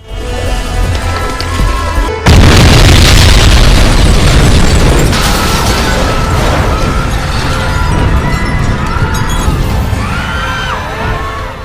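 A movie-scene explosion bursts in with a sudden loud boom, followed by a sustained rumbling roar and scattered crackling debris with distant shouting.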